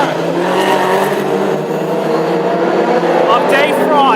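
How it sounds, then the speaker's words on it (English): Classic hot rods thundering around the oval at Northampton, engines roaring loudly and continuously as cars pass close by, with a race commentator talking over the noise throughout. "Magnificent sight of these classic hot rods thundering into view once again."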